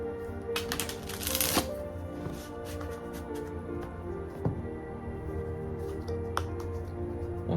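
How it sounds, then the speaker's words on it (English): Tarot cards shuffled by hand in quiet bursts of riffling and soft slaps, with a low steady hum underneath. "whenever I'm shuffling, I like to shuffle 3 times."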